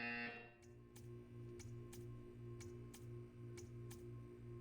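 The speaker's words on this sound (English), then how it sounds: "When you hear the buzzer, stare at the art." A low buzzer drones steadily through a test chamber in the Portal 2 video game, pulsing in a repeating pattern beneath faint regular ticks and with no one talking.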